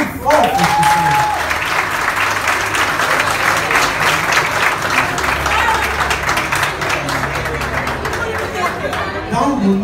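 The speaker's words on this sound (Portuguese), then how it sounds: "Primeiro queria pedir uma salva de palmas para vocês, tão bonitos, tão fortes que são" Schoolchildren clap in a lively round of applause, dense and close, mixed with the chatter and excited voices of the crowd throughout.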